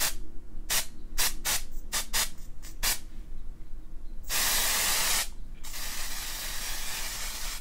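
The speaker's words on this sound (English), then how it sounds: "So I'm gonna spray that with the silver" Short hissing spray bursts in quick succession, followed by two longer, steady sprays from an aerosol can of silver hair color spray, close and fairly loud.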